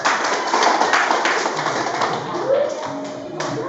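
A classroom of junior high students clapping together in an Islamic education lesson, a steady patter of many hands at moderate volume with a brief voice near the end.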